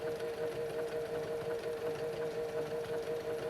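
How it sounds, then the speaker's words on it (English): A Tacony Ellure ESL sewing machine sews a faggoting stitch between two fabric edges, a steady, quiet mechanical whir with a fast, even needle rhythm throughout, with no voices. "Sew the faggoting stitch down the center of the open space, guiding it so the stitches just catch the fabric edges on either side."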